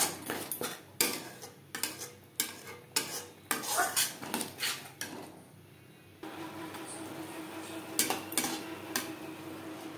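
Sliced onions tossed into a pan with tomato paste and spices, then stirred, giving repeated close scraping and clinking of a utensil against the metal pan, followed by a quieter sizzle.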